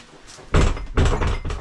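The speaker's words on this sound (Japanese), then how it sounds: "ドア閉めて、" A campsite toilet door is pulled shut, giving two loud, close thuds about half a second apart, with a short rattle after.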